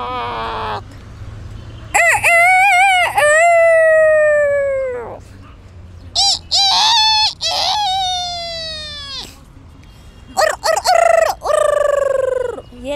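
A voice imitates a rooster's crow: loud, drawn-out, falling calls repeated several times with short breaks, close to the listener and with no other talk.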